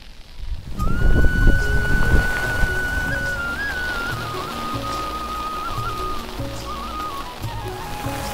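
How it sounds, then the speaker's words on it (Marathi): Heavy rain pours steadily in open paddy fields during rice transplanting, a dense, loud, unbroken hiss that swells in the first seconds and then holds, with a faint high tone running through it. "आता बघू शकताय जोरात पाऊस सुरू झालेला"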